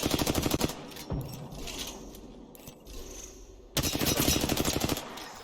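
Automatic weapon fire in the battle royale game Apex Legends, loud rapid bursts at the start and again near the end, with quieter ambient game noise and distant shots in between.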